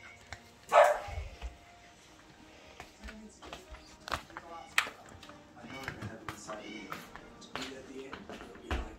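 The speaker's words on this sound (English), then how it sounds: "What's all that barking about?" A few sharp dog barks ring out, one loud near bark early and softer yips after, mixed with a person talking and quiet background sounds.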